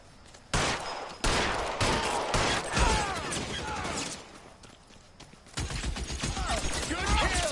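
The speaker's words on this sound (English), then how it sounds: "do you guys hear all that gunshot?" Rapid bursts of gunfire from the video game L.A. Noire, a volley of shots starting abruptly and continuing in dense clusters with brief lulls, loud and close, mixed with game effects and a little background chatter.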